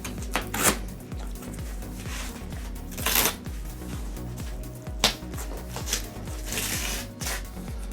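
Excess poster board being cut, a series of scraping, rasping strokes with a few louder crunchy bursts, close and steady, with no talking.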